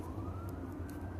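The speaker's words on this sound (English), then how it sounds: "Fake ass sirens." A siren wails faintly in the distance, its tone slowly rising over a low rumble of traffic.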